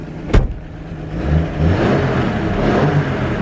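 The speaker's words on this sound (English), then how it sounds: "Little engine purrs." A small engine in a 1954 Ford Mainline idles steadily up close, a low, even rumble with a brief sharp knock near the start.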